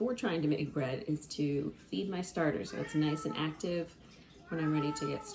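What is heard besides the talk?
cat meowing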